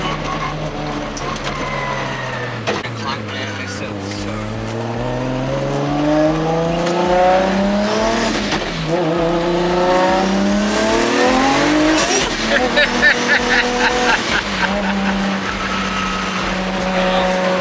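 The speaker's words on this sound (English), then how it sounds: "we are now in the race car, and I cannot wait to feel this thing push me in the back of the seat" A Nissan GT-R race car with a sequential gearbox accelerates hard, its engine note climbing through repeated upshifts in a loud, close onboard run, with the pitch rising and dropping at each gear change.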